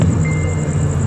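A CSX train passing by in South Florida gives a steady, loud low rumble that holds evenly throughout the short stretch, with a faint high whine above it and no voices.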